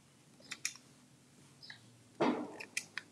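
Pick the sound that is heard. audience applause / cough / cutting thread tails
cutting thread tails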